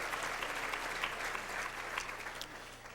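An audience at a gala applauds with steady, dense clapping that stays fairly even and tapers slightly toward the end, heard at a moderate distance.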